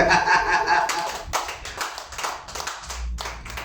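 A church congregation claps together during a sermon, a dense burst of hand claps that swells and thins over a few seconds, fairly close and moderately loud.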